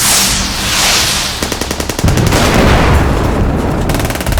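Turret gunfire sound effect for a G.I. Joe comic battle scene: loud, rapid machine-gun bursts with heavy booms and rushing blasts, close and dense, no voices.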